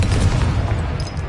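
A Confringo spell explosion in a Harry Potter-style video game, a dense low rumbling burst that fills the short moment, loud and close with no talk over it.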